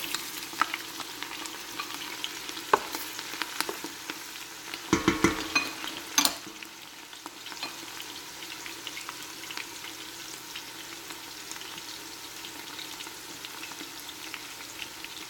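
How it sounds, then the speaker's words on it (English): Garlic sautéing in olive oil for marinara, a steady soft sizzle and crackle that runs throughout, with a couple of brief utensil clanks and stirring knocks in the middle. "I'm going to saute this until they're golden brown."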